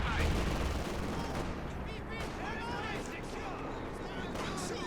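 A zeroing artillery barrage in Company of Heroes 2 rumbles with continuous distant explosions and scattered gunfire, a steady roaring battle din under a commentator's talk.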